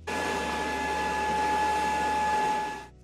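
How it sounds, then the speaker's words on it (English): Cooling fans of an idle Creality CR-10S Pro 3D printer run as a loud, steady whirring hum with a tonal whine, then cut off abruptly near the end. "when it's sitting idle, it's very loud thanks to the fans"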